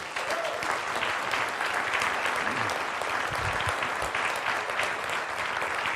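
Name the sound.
audience applause for the doctors at a conference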